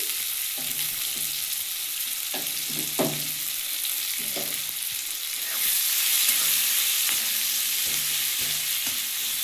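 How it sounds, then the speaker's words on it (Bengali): Thinly sliced onions frying in a pan for a pomfret fish curry, a continuous bright sizzle broken by repeated scraping stir strokes at an irregular rhythm, close and fairly loud. "পেঁয়াজটাকে ভালো করে একটু ভেজে নেবো"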